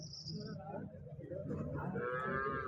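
Cattle mooing at the weekly Husnabad cattle market, a long low bellow rising through the clip amid crowd noise and nearby voices.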